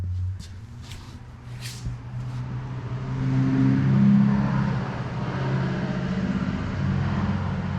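A 2005 Ford F-250 truck with no exhaust muffler runs nearby, its engine giving a deep, rough drone that swells louder midway and then settles into a steady rumble.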